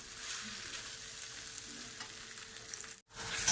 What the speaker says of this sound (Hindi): ये सारी चीज़ें डाल के इन्हें अच्छे से मिक्स करूँगी और फ्राई करूँगी